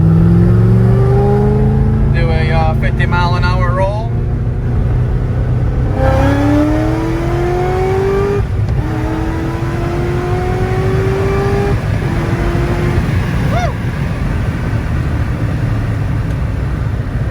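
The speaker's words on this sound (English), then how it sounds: "supercharger whine never gets old" A Corvette ZR1 accelerates hard from a 50 mph roll, its engine note climbing in steady sweeps and a supercharger whine rising with it, loud and continuous throughout.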